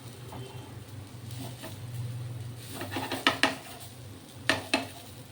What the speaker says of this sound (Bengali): আমরা খুন্তি দিয়েই এইভাবে কেটে দেবো